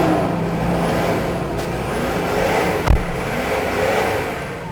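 A 1997 Toyota Land Cruiser Prado TZ idles steadily after starting, a continuous close engine hum with a faint low thump near the end and no talking.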